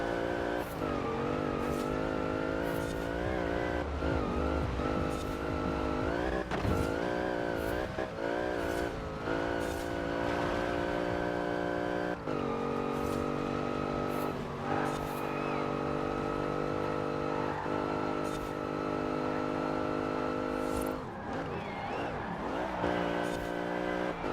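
A car on winter tires racing in Forza Horizon 4, its engine roaring loudly throughout with repeated revs and gear shifts, and brief dips and surges as it accelerates over the course of the run.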